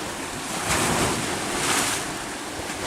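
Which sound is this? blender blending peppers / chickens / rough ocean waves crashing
rough ocean waves crashing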